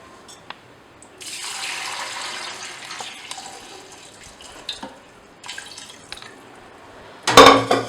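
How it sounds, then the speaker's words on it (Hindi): Milk poured into a blender for a banana and date shake, a soft steady liquid stream running for several seconds, followed by a few light clinks and a loud splashing rush at the end. "मिल्क डाल देती हूँ।"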